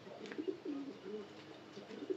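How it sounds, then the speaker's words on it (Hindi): Pigeons coo softly and repeatedly in low, rolling calls, fairly close, with faint background noise. "इधर साइड पे कबूतर हैं, आपको दिख रहे होंगे, ये प्यारे प्यारे कबूतर हैं"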